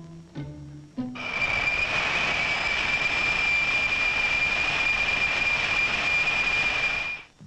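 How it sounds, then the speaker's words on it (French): A cartoon airplane engine roars up after a short sound and holds a steady, loud whine with a high tone for about six seconds before cutting off abruptly. "Là, je vais prendre l'avion."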